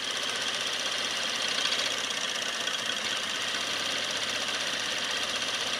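An engine running steadily during a cylinder-by-cylinder condition test, a continuous loud, dense drone with a slight uneven roughness throughout and no talking.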